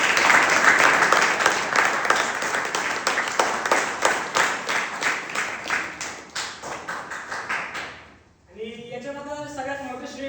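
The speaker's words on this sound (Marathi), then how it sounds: "त्यासाठी जोरदार टाळ्या होणार" An audience applauds in a dense burst of clapping that slowly thins into separate rhythmic claps before fading out, after which a voice speaks.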